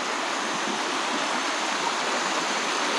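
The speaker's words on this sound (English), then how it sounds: "I think this is the last set of rapids." Rapids on a shallow jungle river rush steadily in a broad, constant hiss of flowing water, loud and near, with no voices.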